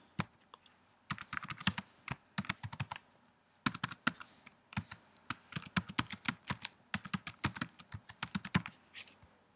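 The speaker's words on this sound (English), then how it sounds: "And what you do is you type in the address here." Fingers tap out a web address on a computer keyboard in quick irregular bursts of crisp, close clicks with brief pauses between words.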